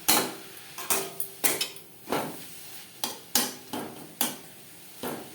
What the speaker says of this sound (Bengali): নাড়াচাড়া করে শাকের মধ্যে যে জলটা আছে এটা আমি পুরোপুরি শুকিয়ে দেবো